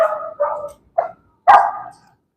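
A dog at a horse barn gives four sharp barks in quick succession, loud and close, with short silent gaps between them.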